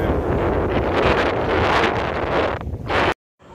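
Strong wind buffets the microphone on a fishing pier at night, a loud continuous roar and rumble with gusts rising and falling before cutting out abruptly near the end.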